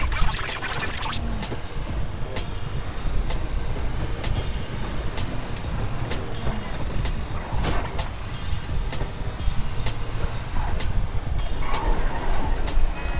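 A train in the video game GTA Online rumbles and clatters steadily for the whole stretch, loud and close, with scattered sharp metallic clicks and scrapes over the continuous roar.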